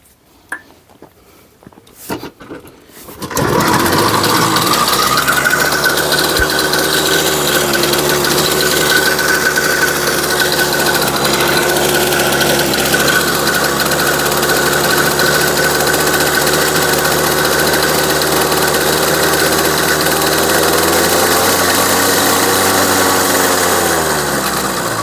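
A rare Riga 13 moped's small two-stroke engine cranks with a few sharp pops, then catches at about three seconds and runs loud and close with a steady buzzing drone that holds, then dips slightly near the end.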